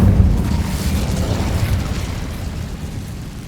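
An Incendio fire spell cast in the Hogwarts Legacy video game erupts as a loud, deep whooshing burst at the start, then rolls on as a heavy rumbling roar that slowly tapers off.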